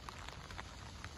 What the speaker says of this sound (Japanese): 雨ですね。